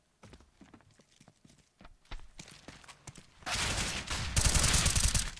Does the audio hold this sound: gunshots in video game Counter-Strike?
yes